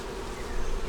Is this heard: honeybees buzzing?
yes